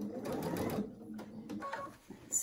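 A sewing machine stitches a lined scrub cap in a short, quiet burst of rapid whirring close up, pausing briefly, then starting again for a moment.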